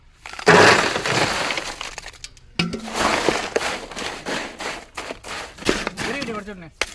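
Ice cubes are broken for a watermelon milkshake, with sharp cracking and crunching bursts and a rattle of fragments, repeated through the clip while people talk close by.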